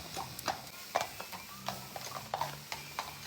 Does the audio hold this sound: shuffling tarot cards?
no